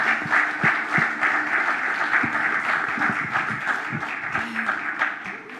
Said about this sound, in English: Let's have a round of applause for these guys.